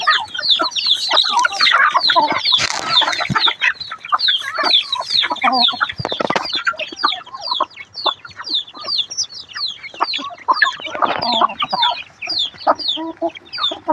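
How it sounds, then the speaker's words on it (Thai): Busy clucking and chirping from a group of young chickens, close and loud, calls overlapping continuously with no speech. "นี่คือไก่หนุ่มสาวรุ่นๆนะครับ"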